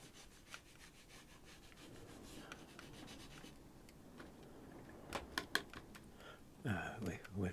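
An eraser rubbing pencil marks off watercolor paper for a landscape painting, a soft scrubbing texture that builds into brisk, louder strokes near the end, heard close with some faint talking.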